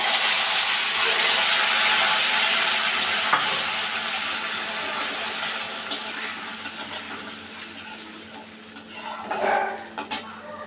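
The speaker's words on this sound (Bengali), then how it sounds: "মশলাটা এবার ভালো করে কষাবো" Spice paste frying in oil in a pan, a loud continuous sizzle that slowly fades, with a few clinks and scrapes of a spoon stirring near the end.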